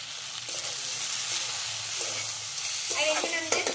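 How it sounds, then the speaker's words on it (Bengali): Curry with turmeric fries steadily in a pan, a continuous soft sizzle broken by a few stirring scrapes, close and moderately loud with no talk. "খানিকক্ষণ ভেজে নিয়েছি খুব ভালো করে"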